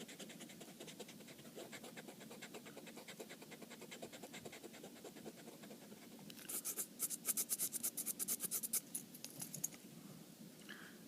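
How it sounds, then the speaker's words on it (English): Written work being erased, a soft steady scratching and rubbing that grows into a quicker, brisker burst of strokes toward the end, faint and close with no talking. "so I'm going to go ahead and erase this."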